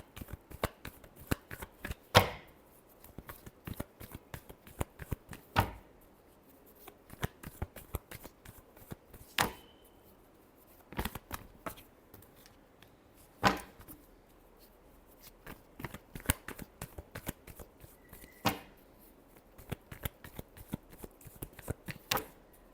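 Tarot cards being shuffled by hand in a quiet room, a long run of crisp riffling and slapping bursts with short pauses between them, close and fairly soft, with no talking.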